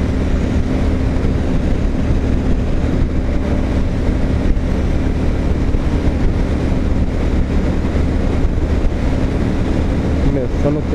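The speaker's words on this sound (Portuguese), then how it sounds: "O barulho maior é quando tá ganhando velocidade acelerando." An old motorcycle engine drones steadily while riding, a constant low rumble mixed with wind buffeting the microphone, with no clear rise in pitch.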